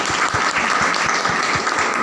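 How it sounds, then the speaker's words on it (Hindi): Steady audience applause at a Chhattisgarhi network-marketing (MLM) meeting, a continuous dense patter of many hands clapping close and loud, with rhythmic low thumps underneath and no speech. "ये बात तो ताली होना चाहिए।"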